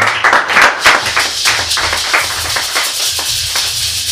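Church congregation applauding during an Easter Sunday service, steady dense clapping from many hands filling the room for several seconds with no talk over it.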